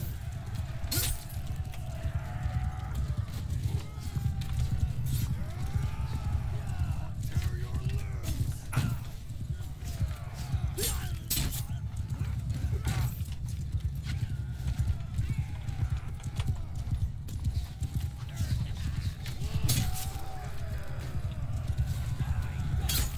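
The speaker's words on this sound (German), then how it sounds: "Da stehen da wieder viele Pferde rum." Horse hooves clip-clop steadily through a mounted battle in Mount & Blade II: Bannerlord, with occasional whinnies and sharp impact crashes mixed in, while a player talks over the game sounds.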